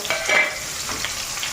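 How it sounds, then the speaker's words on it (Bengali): Onions and green chillies fry in oil with a soft, steady sizzle, with brief stirring scrapes near the start. "এখন এই তেলটার মধ্যে এটা ভাজা নেবো"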